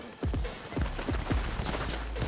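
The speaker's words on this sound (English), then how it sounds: "Who else is shooting?" Gunfire in the video game Cyberpunk 2077, a rapid burst of several sharp booming shots with decaying tails over a low rumble, close and loud.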